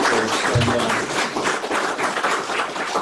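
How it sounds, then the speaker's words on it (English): Audience applause at a healthcare cybersecurity talk, loud and continuous clapping from a sizeable crowd, close and dense, with one brief low thump near the start. "Can we get a round of applause for our speakers?"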